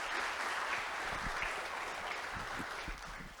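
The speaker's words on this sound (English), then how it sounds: "Finally, just a big round of applause for the two panelists and for all of you as well." An audience applauds two panelists at the close of a panel discussion on responsible AI at a Cambodian ICT camp, with dense, steady clapping throughout that thins slightly toward the end.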